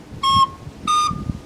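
Two short, bright recorder notes sound one after the other, each started separately with a distinct articulated attack and a small gap between them, close and clear over faint low background noise.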